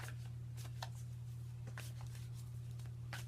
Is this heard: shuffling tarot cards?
yes